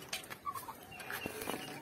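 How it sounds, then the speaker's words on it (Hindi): A turkey kept in a small private zoo gives a run of short clucking calls, with scattered bright clicks and rustles around it and no one speaking. "ये देखिए टर्की बर्ड।"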